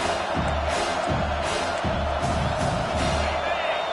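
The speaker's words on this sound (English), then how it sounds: "Decibels rising as the crowd gets behind this defense on third down" Stadium crowd at a college football game between South Carolina and LSU roaring for the defense on third down, a loud continuous swell of cheering with a commentator talking over it.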